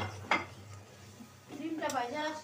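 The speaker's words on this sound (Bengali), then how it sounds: "এখন মশলাটা কষানো হোক।" Spice masala stirred in a pan for a Bengali egg curry: a few soft metal scrapes and clinks of a spoon against the pan, with a faint sizzle beneath and a low steady hum.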